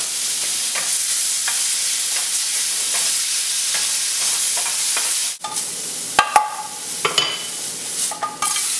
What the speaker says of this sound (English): I'm going to cook my shrimp in a different pan.